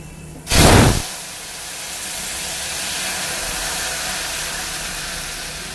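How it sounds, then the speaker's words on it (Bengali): Curry poured into a hot, very thin kadai over burnt black cumin tempering, a loud burst of sizzling hiss for about half a second, then a steady softer bubbling hiss that continues alone. "এবার আমি তরকারিটা ঢেলে দেবো।"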